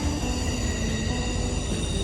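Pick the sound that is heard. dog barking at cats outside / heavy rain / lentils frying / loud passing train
loud passing train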